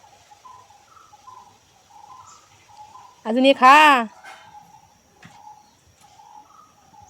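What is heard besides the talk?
pet bird calling while being fed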